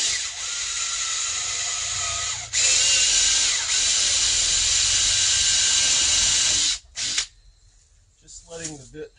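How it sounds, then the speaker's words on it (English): A power drill pre-drills a hole in wood, whining loudly in two sustained bursts before stopping abruptly, followed by quieter handling sounds. "What I'm going to do is pre-drill the wood,"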